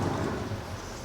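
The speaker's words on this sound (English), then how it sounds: "You go take a look at that rain, Jim." Torrential rain pours down outside a custom shop, a loud, steady wash of dense drumming that fills the whole moment with no let-up.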